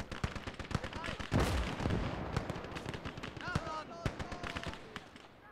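Machine-gun and artillery fire in a Gates of Hell battle, with dense overlapping bursts and heavy booms rattling throughout, fairly faint in the mix with some speech.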